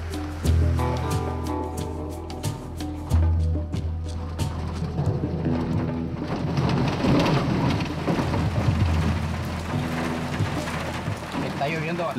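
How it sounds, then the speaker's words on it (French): Heavy rain with thunder on a road in Nicaragua, a steady roar of rain broken by deep rumbling booms, with someone talking over it and low engine hum beneath. "Là, il pleut vraiment."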